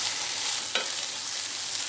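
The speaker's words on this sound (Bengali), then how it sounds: "টমেটো দেওয়ার পরে ভালো করে এটা ফ্রাইটা মিশিয়ে নেব।" A frying mix with tomato and salt is stirred in a pan for an aloo karela bhaji, a steady close sizzle with one brief scrape of the spoon partway through, with no voices.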